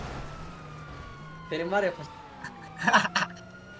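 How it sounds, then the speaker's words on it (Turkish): An ambulance siren in the video game GTA 5 wails with a slow falling tone beneath the action, while people talk in two short bursts over it. "Oğlum tekrar ambulans falan başladı"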